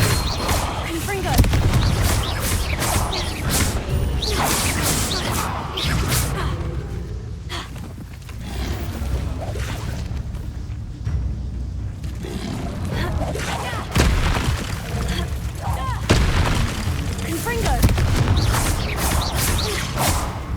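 Repeated Confringo explosive spells go off in Hogwarts Legacy, heavy booming blasts and whooshing bursts packed throughout amid busy battle noise, with a player's voice and shouts over the top.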